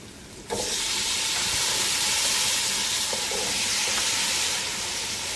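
Potatoes dropped into a hot frying pan with a little curry powder, bursting into a loud, steady sizzle and hiss that holds evenly for several seconds, close and with no voices.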